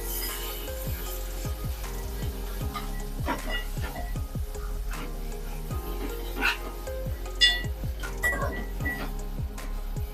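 Onion, tomato, ginger and garlic saute in a pan under a low, steady sizzle with soft repeated scraping strokes and faint background noise.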